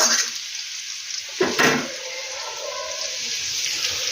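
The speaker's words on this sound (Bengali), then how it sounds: "ছেলের জন্য একটু আলু ভাজা করছি" Potatoes frying in a pan give off a loud, continuous sizzle close by, with a short burst of stirring or spattering partway through.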